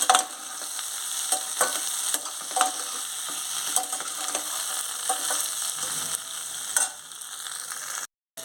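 Taro curry frying in a pan with turmeric stirred in gives a continuous close sizzle, with regular spoon taps and scrapes against the pan, ending in a brief cut to silence.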